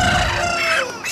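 Featherless broiler chickens clucking outdoors in hot sun, a dense near flock chatter of overlapping clucks and squawks over a short stretch, steady and fairly loud with no talk.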